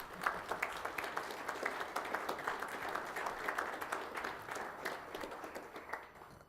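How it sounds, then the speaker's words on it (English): An audience at a science and technology center celebration applauds a high school student, a steady round of many hands clapping at moderate distance, holding even for several seconds before tapering off. "I'm going to ask you to give her a nice round of applause"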